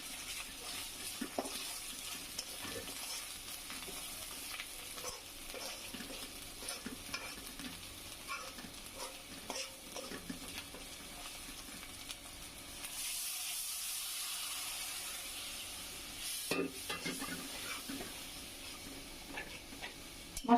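Spice paste of turmeric, chili and coriander powders frying and being stirred in a pan for a hilsa fish curry, a steady close sizzle with scraping strokes throughout and a brief louder hiss near the end.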